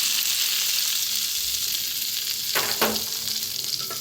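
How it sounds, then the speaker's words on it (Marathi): Hot oil tempering poured over potato bhaji for dosa hisses in a steady, bright sizzle that gradually settles, with a couple of brief clinks or stirring sounds near the end. "गरम गरम फोडणी जर ओतून द्यायची"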